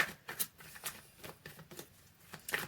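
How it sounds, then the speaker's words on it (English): Tarot cards being shuffled by hand during a reading, a steady run of soft papery riffles and flicks, fairly quiet and close, with no voices. "When I'm finished shuffling"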